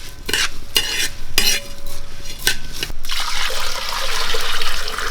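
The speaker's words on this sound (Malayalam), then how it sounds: "ഒന്ന് ഇളക്കട്ടെ ഇളക്കി വെച്ച് നമുക്ക് വെള്ളം ഒഴിക്കാം" A spoon stirs rice payasam in a pot for Kerala-style rice kheer, making loud, repeated scraping strokes. The strokes then blend into a continuous bubbling, sloshing churn. No one speaks.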